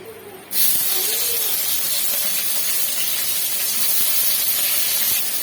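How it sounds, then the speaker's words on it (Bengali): Eggplant and bitter gourd sizzle in hot mustard oil in a wok, a loud, steady frying hiss that bursts in abruptly and holds alone for several seconds. "আর একটু কড়াইতে তেল দিয়ে বেগুন উচ্ছেগুলো ভেজে নেব"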